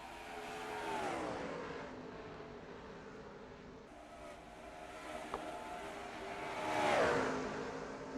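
Racing trucks from a racing video game at Homestead roar past on track, engine tones rising and falling in a faint blended drone with two distinct pass-bys.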